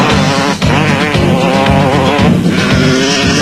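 Yamaha enduro motorcycles race off-road at the 1995 Castrol Winterberg Enduro in South Africa, engines revving and roaring loudly and continuously, with rising and falling pitch as bikes pass close by.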